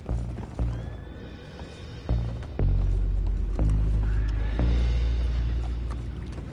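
Horses whinny and neigh repeatedly in a Red Dead Redemption 2 scene, near and loud, over heavy low rumbling and hoof clatter with several sharp knocks.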